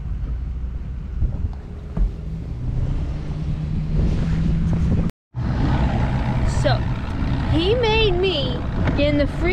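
A 1998 Ranger bass boat runs on muddy Taylorsville Lake, its engine droning loudly under heavy wind buffeting. After a brief cut, voices talk over the motor and splashing water.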